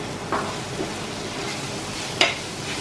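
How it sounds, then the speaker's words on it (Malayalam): Chopped green chillies hit a hot pan for a vegetable biriyani and are stirred, giving a low, steady sizzle broken by two brief scraping clinks. "ഇനി നമ്മൾ അരിഞ്ഞു വെച്ചിരിക്കുന്ന പച്ചമുളക് ചേർക്കാൻ പോവാം."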